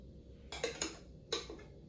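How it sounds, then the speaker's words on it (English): Thick homemade garlic paste is put into a bowl, making a few soft, close clinks and taps of a spoon against the bowl in two short clusters over a quiet background. "So I will put it here in this bowl."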